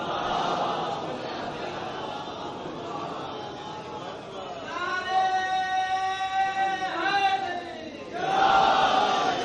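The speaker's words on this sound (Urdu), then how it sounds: "ایک نعرے صلوات بلند فرمائیں." A mosque congregation in an imambargah, crowd voices rising together in a loud chanted salawat response, swelling in the middle and again at the end, mixed with general crowd noise.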